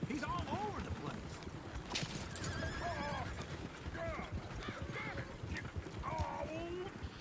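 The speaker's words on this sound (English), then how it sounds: "Oh, shit, the horses! Damn horses!" Horses whinny repeatedly in the video game Red Dead Redemption 2, loud and close, over clip-clopping hooves and rolling coach noise, with voices talking throughout.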